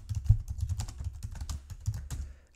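Computer keyboard typing while writing code, rapid, uneven runs of close keystroke clicks and thumps that slow and fade at the end, with no talking.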